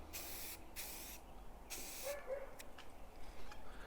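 Several short bursts of spray paint hissing from an aerosol can onto a model railroad building, each lasting about half a second, separated by brief pauses, close to the microphone.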